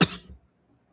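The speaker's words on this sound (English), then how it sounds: "Excuse me for my voice and for my cough in between." A single short, sharp cough up close, fading quickly into silence.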